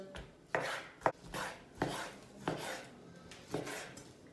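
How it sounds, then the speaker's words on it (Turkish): A knife chops chicken into cubes on a cutting board in slow, uneven strokes, six or so sharp thuds, close and fairly quiet. "Tavuklarımızı kuşbaşı doğrayacağız."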